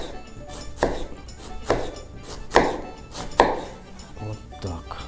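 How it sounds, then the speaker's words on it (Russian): A knife finely chops onion on a cutting board for a Kalmyk dish, with four sharp, evenly spaced chops followed by a couple of softer ones at close range. "Лук так же, как и жир, нарезаем мелко"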